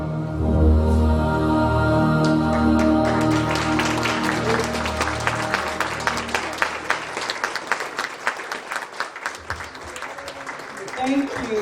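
An audience at a women's conference applauds after a live song performance. Dense, loud clapping swells as the music fades, then thins into scattered claps near the end.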